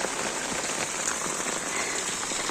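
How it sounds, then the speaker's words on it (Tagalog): Heavy rain pours down steadily near a house terrace, a dense, loud, continuous hiss with scattered drop impacts and no voices. "Lakas ng ulan ay."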